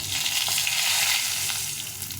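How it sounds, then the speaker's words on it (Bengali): Dried red chillies, cumin seeds and a bay leaf sizzle in hot mustard oil, a loud, steady close-up hiss and crackle with no talking. "তেলটা গরম হয়ে গেছে এখন শুকনো লঙ্কা আর একটু সাদা জিরে দিয়ে দিলাম আর একটা তেজপাতা"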